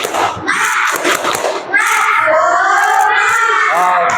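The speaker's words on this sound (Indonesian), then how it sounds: "Tepuk semangat dulu, tepuk semangat." A fifth-grade class claps a rhythmic 'tepuk semangat' pattern in a sharp, close burst, then children's voices rise into a loud, sustained chant-like cry.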